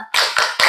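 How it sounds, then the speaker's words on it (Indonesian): A classroom of students claps a rhythmic group cheer, three sharp, loud bursts of hand claps in quick succession with brief gaps between them. "Kasih tepuk mantul untuk kelompok 3"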